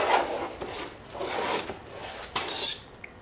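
Rough scraping of a tool across an LS engine intake manifold, several rasping strokes in a steady rhythm, close and moderately loud with no talking.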